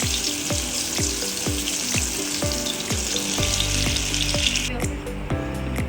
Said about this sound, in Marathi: काही आपण शेडो फ्राय केलेले आहेत आणि काही तळून घेऊ